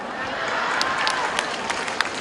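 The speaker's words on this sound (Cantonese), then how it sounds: "咁少掌聲真係信啦！" Audience applause at a Hong Kong stage show, a moderate steady patter of many hands with a few sharper individual claps standing out above the crowd.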